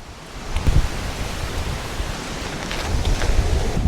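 Strong wind gusting outdoors on a trip to a partisan bunker, a steady roaring rush buffeting the microphone, swelling and easing in waves for a few seconds with no talk.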